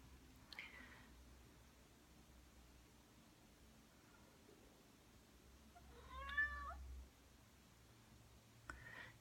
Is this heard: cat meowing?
yes